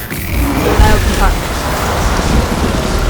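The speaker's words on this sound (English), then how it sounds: "Now we can hear the full-on rain ASMR." Steady rain ambience from the video game Detroit: Become Human, a continuous broadband wash of falling rain with a low rumble, even and enveloping throughout with no talk over it.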